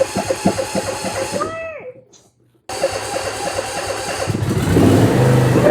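A lawn mower engine sputters and runs, cuts out into a moment of silence, then catches again and keeps running. The engine grows louder and steadier at the end, close by, with people talking over it.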